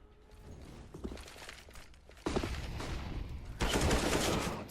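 Rifle fire crackles through a Counter-Strike match on the Train map, an AK-47 among the guns, with scattered shots building into two dense bursts of loud, sustained gunfire near the end.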